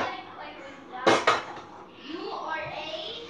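Pans being rummaged through in a home kitchen to find a small one, a couple of sharp metallic clanks and clatters close by, with a voice talking softly around them.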